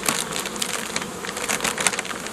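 Honey bees working a vertical hive, a dense steady buzz from many insects heard close and fairly quiet, with no voices over it.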